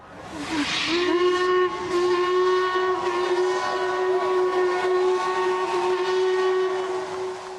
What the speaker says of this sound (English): The Prince Elizabeth steam train blew her horn from the Chelsea River Bridge as she went.